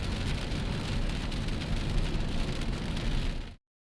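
Heavy rain on a day trip from Queenstown to Milford Sound, New Zealand, pouring as a loud, dense, unbroken hiss that cuts off abruptly near the end.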